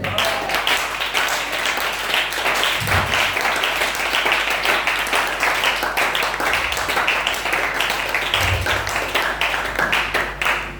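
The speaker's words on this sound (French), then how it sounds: "On peut acclamer le Seigneur." A church congregation claps and cheers steadily to acclaim the Lord, a dense and continuous wash of applause from many hands that stays loud from start to finish.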